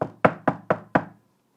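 Five evenly spaced, resonant knocks on a wooden door, close by, with a slight ring after each.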